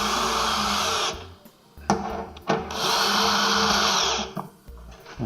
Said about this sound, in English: Then we'll use speed driver with a 5/16.